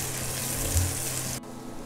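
Half a cup of chopped onions frying in a pan with tempered spices, a steady close hiss with a low hum that cuts off abruptly near the end, leaving a faint quieter tail.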